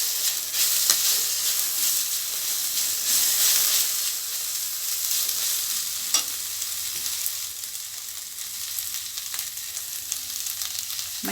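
Chopped coriander and drumstick leaves sauté in a hot pan for a Tamil murungai keerai thuvaiyal, giving a steady close frying sizzle with occasional stirring clicks and no talk.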